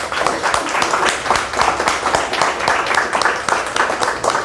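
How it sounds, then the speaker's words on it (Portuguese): An audience in a Brazilian talk-show setting claps rhythmically in honor of a doctor, with sharp individual hand claps forming a pulsing, near applause that carries on for several seconds. "Queria pedir uma salva de palmas."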